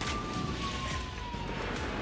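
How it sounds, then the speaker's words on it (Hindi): An air raid alert siren in Novorossiysk, Russia, at night glides steadily downward in pitch, sounding from a distance over a dense background rumble. "नोवरोसिस्क में शनिवार रात भी अलर्ट सायरन बजते रहे।"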